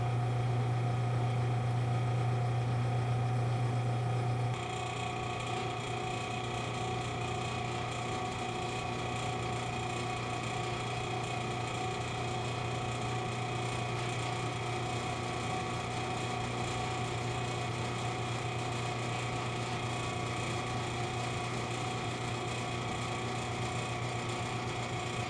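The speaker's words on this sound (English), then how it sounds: "I just need to put this in the mill now and clamp it down and deck that off." A milling machine decks off the face of a freshly cast vintage metal wheel, a steady loud mechanical hum with a low drone that shifts slightly after a few seconds and then runs on unbroken.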